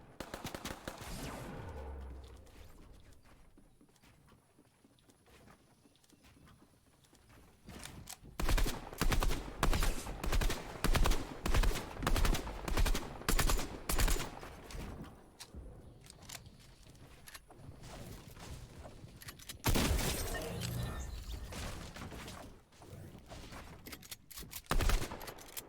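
Fortnite gunfire rattles in rapid bursts, with a sustained stretch of evenly spaced loud shots in the middle and further scattered volleys later, set against quieter game ambience.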